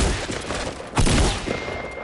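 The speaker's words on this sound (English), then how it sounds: "I shot this man in the head like 8 times." Rapid bursts of video-game gunfire, a loud close volley of shots with a heavy burst near the middle, alone without talk.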